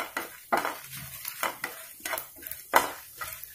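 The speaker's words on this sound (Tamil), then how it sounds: "காஞ்ச மிளகாய், சீரகம், தனியா, இது இதை கொஞ்சம் நல்லா ரோஸ்ட் பண்ணிக்கலாம்" Dried red chillies, cumin and coriander seeds being stirred and roasted in a pan over medium flame, with repeated scraping and rattling strokes of a spatula against metal in an irregular rhythm, close and moderately loud, with no voices.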